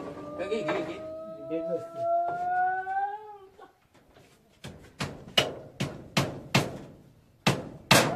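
People talk briefly, then a hammer strikes about seven sharp, loud blows at an uneven pace, each ringing out and fading, while a bamboo goat shed is built in Konkan.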